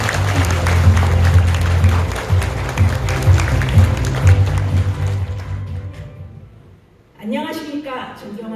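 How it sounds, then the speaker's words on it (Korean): Crowd applause at a People's Party presidential campaign committee appointment ceremony, a dense, steady clapping for about five seconds that then fades out, followed by a single voice speaking. "큰 박수 부탁드립니다."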